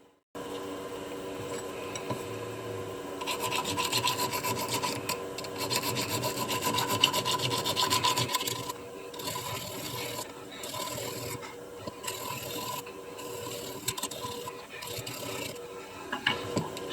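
A metal fossil preparation tool is sharpened with steady rasping strokes. The scraping is loud for the first half, then turns into shorter, broken passes with gaps between them.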